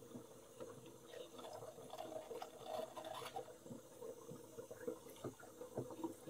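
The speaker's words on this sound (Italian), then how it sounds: "E già che ci siamo, laviamo anche la nostra siringa." Water rinsing a sprayer syringe in an organic orchard, with fluctuating splashing and trickling that runs continuously at moderate level.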